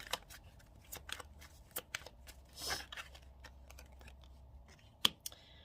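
Tarot cards being shuffled and drawn by hand, a string of soft, brief card snaps and slides spread across a quiet room, with one sharper flick near the end.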